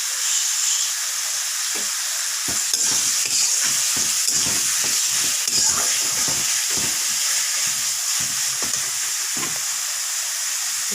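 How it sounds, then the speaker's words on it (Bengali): A pan of egg and soybean curry sizzles loudly and steadily with hiss and steam as water goes in, broken by repeated close scraping strokes of a spoon stirring, no one speaking. "এখন অল্প জল দিয়ে দিচ্ছি এটা কষানোর জন্য।"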